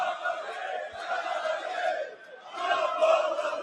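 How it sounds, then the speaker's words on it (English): Darts crowd at a Jonny Clayton versus Andy Baetens match, a dense roar of cheering and chanting voices that swells, dips briefly near the middle, then surges loud again. "And the crowd have found their voice."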